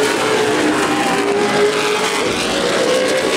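CRA Super Series race cars roar steadily around the turns at Anderson Speedway, a loud, continuous engine drone with slight pitch shifts as the pack passes.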